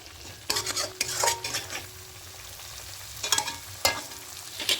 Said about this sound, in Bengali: মিডিয়াম ফ্লেমে একটু ভালো করে এটাকে কষিয়ে নেব